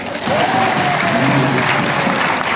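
Audience at a Christmas Eve Lions Club event bursts into steady, dense applause lasting a few seconds, with a voice briefly heard over the clapping.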